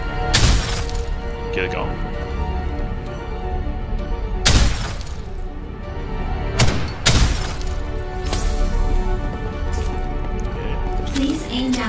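Hip-fire shooting at targets in the online shooter Ghost in the Shell Online: a few loud, sharp gunshots spaced several seconds apart over a steady bed of game sound and music, with someone speaking briefly.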